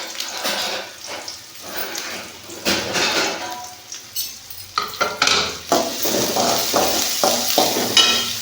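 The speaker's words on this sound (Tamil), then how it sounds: "இதில் இப்போ வெங்காயம் ஆட் பண்ணிக்கணும்" Onions go into a hot pan for a prawn roast, setting off a loud sizzle broken by repeated clattering stirs and scrapes of a utensil against the pan.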